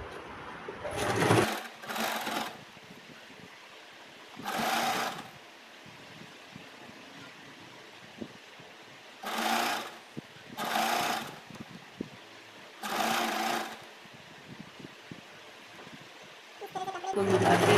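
Sewing machine stitching the panels of a six-panel petticoat closed, several short whirring bursts of a second or so each separated by pauses, fairly close, with quiet handling sounds and talk between runs.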